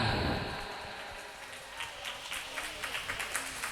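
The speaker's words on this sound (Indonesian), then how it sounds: "beri tepuk tangan" Audience applause at an Isra Mi'raj religious gathering, a wash of distant clapping that swells at the start, then fades into scattered, fainter claps.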